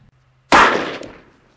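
A .357 Magnum revolver fires into a ballistic gel block: one sharp, loud report that cuts off a faint hum, then rings and decays over about half a second, with no voices.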